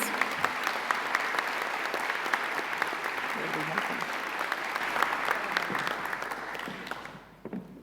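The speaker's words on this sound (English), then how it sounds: "Let's give them a round of applause" Sustained audience applause for Nursing Trailblazer Award nominees at a conference, steady dense clapping from a large crowd that fades out near the end.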